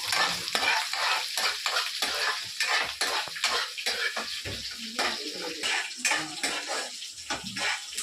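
Ingredients for mint rice frying in a pan, a loud busy sizzle broken by a rapid, repeated scraping rhythm of stirring throughout, no speech.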